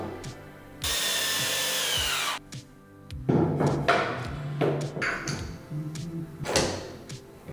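Circular table saw cutting an edge off a wooden board, a loud high whine for about a second and a half as the blade bites, followed by workshop clatter and knocks.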